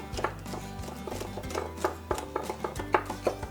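Kitchen knife slicing a de-seeded bell pepper on a cutting board, with a quick series of crisp taps and cuts, close and fairly loud, alone without talk.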